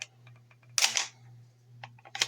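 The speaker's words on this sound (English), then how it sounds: "Next thing you want to do is hit your bolt release" Bolt release on an Inertia 12 gauge shotgun, field-stripped, lets the bolt snap shut with a sharp metallic clack, followed by a second lighter click, close and crisp over a low hum.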